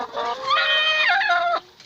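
A free-range hen in a chicken coop gives one loud, close, drawn-out squawking cluck that rises and then drops away, with no talking.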